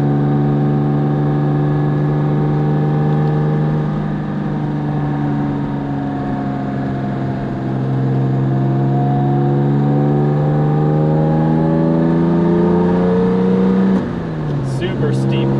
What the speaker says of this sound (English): an E-Type Jag's got all the torque in the world and it'll pull right up.